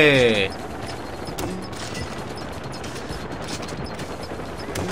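Rapid gunfire from the video game Far Cry 4 crackles continuously in dense bursts after a brief tonal sound at the start, loud and busy throughout.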